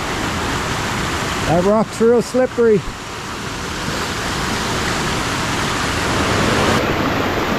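Water runs steadily through a gold-prospecting creek among old hand-stacked rocks, a broad continuous rush under a brief nearby spoken remark.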